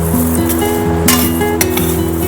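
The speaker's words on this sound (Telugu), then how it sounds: "మంచిగా లైట్గా ఇట్లా వేయించుకోవాలండి" Ingredients for homemade protein powder lightly roasting in a pan, a steady close sizzle with occasional clinks of a utensil against the metal.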